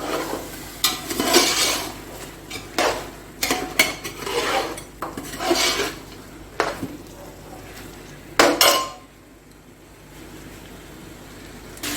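Meat for gosht chawal cooks in a pot, with a spoon repeatedly scraping and clanking against the metal as it is stirred and browned, and a faint sizzle underneath, close by, before falling quiet.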